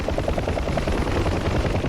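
Helicopter in the DCS flight simulator game on a festive supply mission, its rotor giving a steady, loud, continuous thumping drone throughout with no break.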